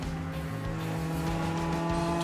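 Compass 360 Audi race cars climbing over the hill and through the final corner at Road Atlanta, with a steady, loud engine drone and harmonic tones holding throughout, some gear changes, no talk.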